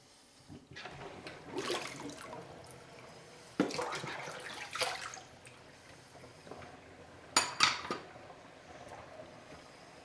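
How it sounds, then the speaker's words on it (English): Water shaken out of a Sawyer Mini water filter, producing several faint, close splashy rattles in separate bursts with quiet gaps between them. "Go ahead and shake out any water you can."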